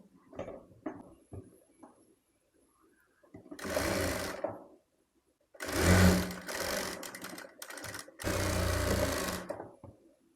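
A sewing machine stitches a sleeve onto a frock made from an old shirt, running in several close bursts of rapid mechanical whirring with short pauses and light handling clicks between them.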